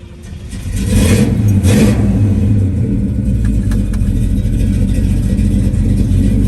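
A fuel-injected 1972 Chevrolet Chevelle engine fires up and is revved, a loud deep rumble that surges after about a second, then settles into a steady heavy idle close by.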